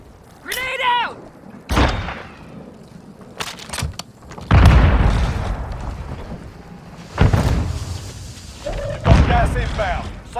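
A grenade detonates in Call of Duty Warzone on the Verdansk battle royale map, heavy booming blasts and thuds breaking out between bursts of in-game voice chatter.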